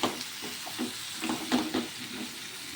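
Chicken and vegetables stirred in a pan for a home-style chicken stew, soft sizzling under repeated scraping strokes of a spoon, close and steady.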